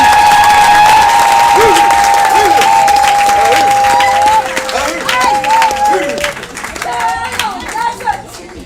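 Church seminar congregation applauding and cheering, a loud dense roar of clapping and shouts that thins toward the end, with a sustained tone and voices audible within the crowd.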